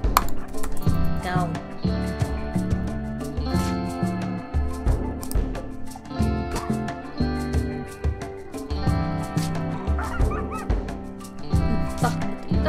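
In the video game Rimworld, a dog barks and yips amid a dense, busy game soundtrack, its calls mixed into loud continuous music with repeated sharp hits and no clear talking.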